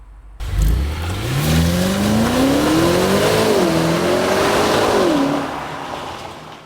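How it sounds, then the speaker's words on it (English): Land Rover Defender OCTA V8 pulling away from a standstill, its engine note climbing smoothly through gears with a brief dip at a shift, a steady rumble heard from inside at fairly close range. "You can hear the rumble of the V8"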